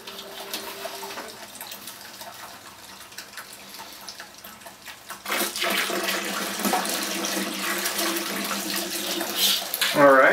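Brewed beer wort pours through a strainer. A faint trickle turns into a louder, steady gushing splash halfway through.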